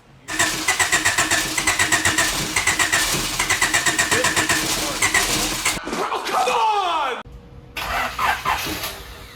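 A Honda Civic with a freshly swapped B17 engine in an EF chassis cranks rapidly, catches and revs, then cranks again in short repeated attempts, loud and close with people talking over it.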